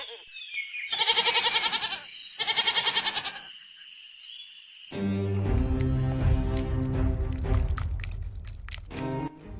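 A goat gives two loud, quavering bleats in quick succession, close and clear, followed after a pause by busier, noisier background sound.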